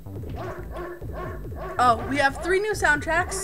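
Barking of a dog character named in a game studio build review, set in the game's soundtrack: repeated bright yips and woofs rising over steady in-game music, with a person talking over part of it.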